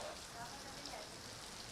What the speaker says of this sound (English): there's nowhere really to shelter from the rain because it's coming in almost sideways at this moment